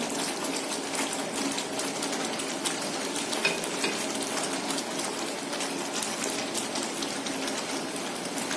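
Chicken pieces go into a thick gravy in a pan, bringing a steady, even sizzle and bubbling that continues unbroken at moderate volume, with no talk over it.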